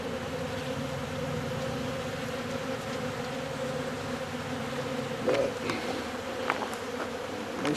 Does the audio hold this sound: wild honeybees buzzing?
yes